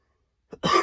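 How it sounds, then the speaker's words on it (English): A single cough bursts out after a stretch of silence, near and sharp, followed by a louder, rougher cough or throat-clearing that rings on to the end. "man, I keep coughing so much"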